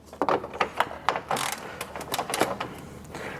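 Two bolts are undone from a coolant expansion tank on a 25-year-old car, giving a close series of short ratcheting clicks and metallic mechanism sounds in quick bursts, with no talking.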